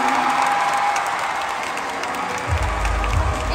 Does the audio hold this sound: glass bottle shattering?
no